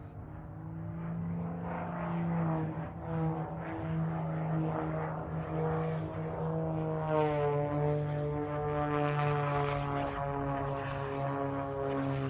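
Aerobatic propeller plane pulling up into a straight vertical climb during an air show, its engine a steady loud drone with a shifting pitch that swells in the final seconds.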